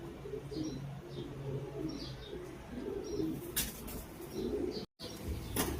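Breeding pigeons in a pigeon loft coo softly and steadily, low throaty calls overlapping with a few higher chirps and a faint rustle, all fairly quiet and without talk.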